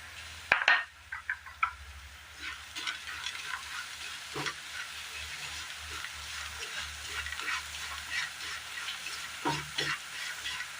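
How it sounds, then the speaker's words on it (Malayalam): A spoon stirs chocolate cereal puffs into jaggery melting in a hot pan, giving scraping, rustling stirs with a few sharp clinks against the pan over a soft sizzle, close and fairly quiet. "ഈ വെല്ലം ഒന്ന് ഉരുകി വരുന്ന സമയം നമുക്ക് ഇതിലേക്ക് ഈ ചോക്കോസ് കൂടി ഇട്ട് കൊടുക്കാം."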